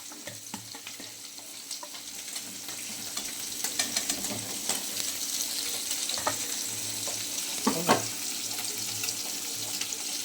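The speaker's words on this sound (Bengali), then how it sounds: "মাছটা ভাজা হয়ে গেছে, এবার আমি তুলে নেব।" Fish sizzling steadily in hot oil in a pan while cooking a Bengali koi fish curry, with a constant crackling hiss, occasional clinks and stirring scrapes, and a brief louder sputter near the end; no speech.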